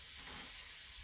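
Duck pieces frying in a pan give off a steady, fairly faint sizzle and hiss for about a second, with no voices.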